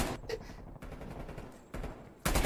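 Rapid bursts of gunfire from the Call of Duty Cold War video game crackle in quick succession, with sharp louder volleys near the end amid steady in-game noise.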